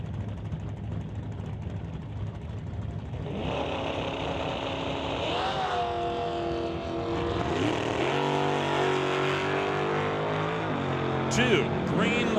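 Drag racing cars launching down the strip at an NHRA Summit ET Series race: engines roar and rise in pitch as they accelerate away, steady and loud, with a commentator talking over them.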